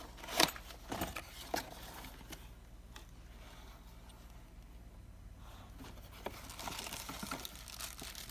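Keys and small metal hardware jangle and rustle as a Cal Royal HIL Series interconnected door lock kit is unpacked, with a few sharp clinks early on, then quieter handling and packaging crinkle nearby.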